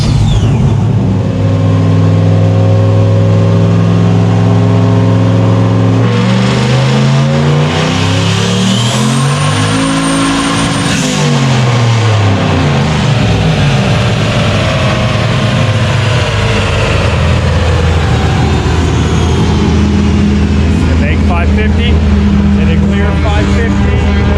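A turbocharged LS-swapped Nissan 240SX on a dyno-style final pull roars loudly, its engine note climbing and sweeping through the revs, dipping, then holding a sustained high drone, close and continuous throughout.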